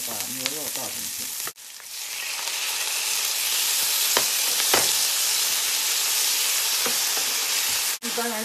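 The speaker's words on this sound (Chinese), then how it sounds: "锅烧热，倒油，洋葱放进去，先出点香味来，然后把牛肉倒进去。" Beef and onion stir-fry in a hot oiled wok, a dish of beef fillet with purple yam. A loud, continuous close-up sizzle with stirring scrapes runs throughout, briefly cutting out twice.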